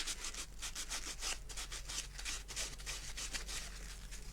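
Sandpaper rubs back dried wax on an MDF piece in quick, even back-and-forth strokes, a close, soft scratchy rasp repeating in a steady rhythm.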